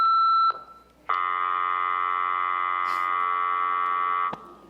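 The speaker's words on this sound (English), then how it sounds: "Please leave a short message after the tone" An answering machine sounds its beep tone: a brief high tone, a short gap, then a long, loud, steady electronic beep lasting about three seconds before cutting off, with no talk over it.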